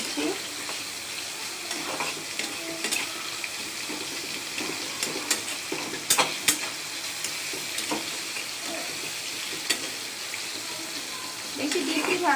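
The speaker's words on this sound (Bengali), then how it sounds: "এখানে পেঁয়াজ আর মরিচটা ভালো করে ভেজে নিচ্ছি।" Onions and chilies fry steadily in a pan, a dense continuous sizzle with occasional stirring scrapes and clicks, close and fairly loud throughout with no one speaking.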